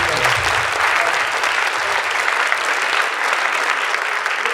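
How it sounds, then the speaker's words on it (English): An audience gives a big round of applause at an evening education event, dense sustained clapping heard up close and loud, with a faint crowd murmur underneath. "So big round of applause."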